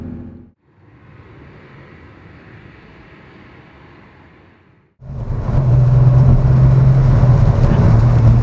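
Porsche 911 Turbo (964 Turbo S2 IMSA Supercar Series) cruising in fifth gear. A muted interior road rumble gives way to a louder, steady engine drone with a low hum, close and without talk.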